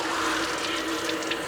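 Steady running water rinses a Goldendoodle in a tub, a continuous close hiss and splash with slight fluctuations throughout.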